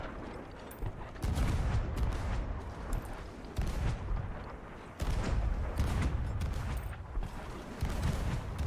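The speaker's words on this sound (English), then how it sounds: "It's these long distance cannons slamming them downrange up against everyone they can possibly see." Long-distance cannons in a competitive video game match fire in repeated heavy booming blasts, with dense overlapping impacts and rumble forming a loud, continuous barrage.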